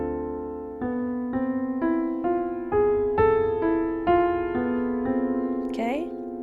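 A jazz piano plays a slow arpeggio on a modified 6 chord, each note struck separately and left ringing, climbing step by step to a final higher flourish.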